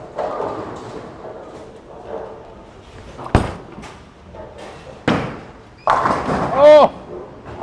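A 900 Global Reality Check bowling ball shot at a bowling alley, with sharp thuds and a clattering crash of pins amid echoing lane noise and a few scattered knocks.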